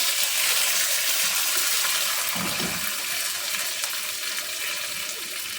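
Curry leaves dropped into hot oil for South Indian sambar give a steady, close broadband sizzle and crackle that holds for several seconds, with a brief low thump midway and no talking.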